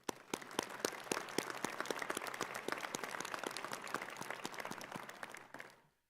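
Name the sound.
audience applause at commencement ceremony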